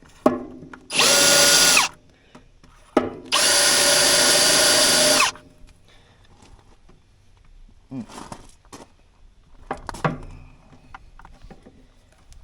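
Two bursts of a power drill spinning up close, the second longer, followed by scattered knocks and handling noises.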